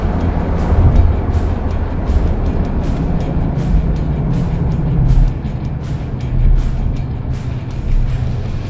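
A Skoda Superb 1.8 TSI revs hard at about 4,000 RPM in third gear on a highway, a loud steady engine drone with road and wind roar throughout, no talk.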